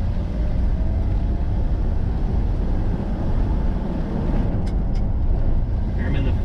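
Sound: 1969 Ford F-350 flatbed truck driving on road

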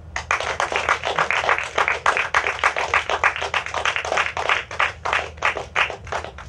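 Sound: audience applause

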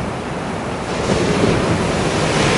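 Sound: sea waves splashing on rocks at Inamuragasaki

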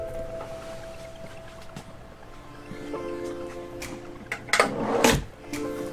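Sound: wooden drawer being opened in an Airstream Atlas

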